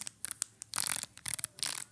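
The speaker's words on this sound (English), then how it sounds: "That's the sound of changing the aperture." Aperture ring turned on a vintage f1.2 manual camera lens, soft close-up clicking and rubbing ticks in short bursts, quiet and alone.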